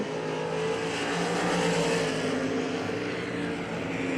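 Dirt-track race cars roaring around the final turn of a heat race at Hagerstown Speedway, a loud steady engine drone with shifting pitch and no voices.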